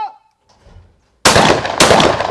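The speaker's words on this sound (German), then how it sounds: "Sie hat beide Tauben wunderbar aufgenommen, hat durchgezogen und dann den Schuss absolviert." Two loud, sharp shotgun blasts at a clay pigeon range, the second following about half a second after the first, each with a long booming tail, preceded by faint quiet sounds.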